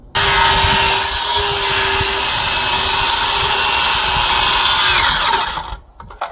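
A power saw cuts down a 2x6 top rail board during deck railing repair, giving a loud, continuous high whine for about five seconds before spinning down.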